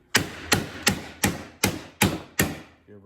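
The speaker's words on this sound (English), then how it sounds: "I had to look for a soft hammer. Give" Seven sharp, evenly spaced thumps of a soft hammer striking a 1998 Audi strut mount, close and loud, followed by a faint rattle at the end.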